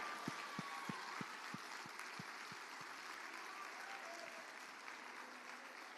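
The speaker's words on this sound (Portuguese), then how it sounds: "aplaudam o Senhor." A church congregation at a Sunday service gives a burst of applause. Several sharp claps come at the start, then a steady patter of crowd clapping carries on at moderate loudness.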